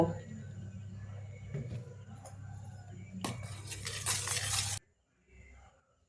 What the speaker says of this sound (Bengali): জল দিয়ে আমি একটা বাটার তৈরি করে নেব